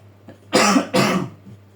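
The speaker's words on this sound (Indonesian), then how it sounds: "Sorry lagi batuk ya." Two strong coughs in quick succession from a nearby person, loud and close, with a faint softer cough just after.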